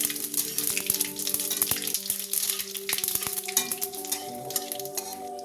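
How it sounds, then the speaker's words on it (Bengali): Whole cumin seeds crackle and sizzle in hot oil while being lightly stirred, with a spoon clinking now and then against the pan and a steady low hum behind. "এখন তেলটা গরম হয়ে গেছে। এবার আমি এর মধ্যে দিয়ে দেবো যে গোটা জিরেটা ছিল, হালকা করে আমি এটাকে নেড়ে নেবো।"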